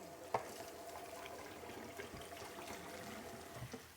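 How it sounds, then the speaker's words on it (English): Grass-fed Australian beef rump medallions are rinsed under a running kitchen tap, giving a faint, steady trickle of water with one small knock near the start. "I'm gonna just rinse it so I can hold it up and show you"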